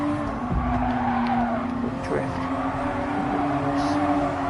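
Tires screech and skid as a car drifts on a racing circuit in Gran Turismo Sport, a sustained squeal over a steady engine drone, with loud race-car audio throughout.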